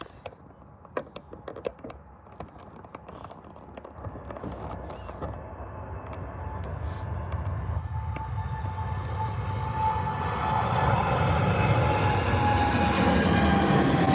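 A TUI Boeing 787 airliner at Birmingham airport, its jet engine roar building steadily from faint to loud and close, with a rising whine and a broad rumble underneath.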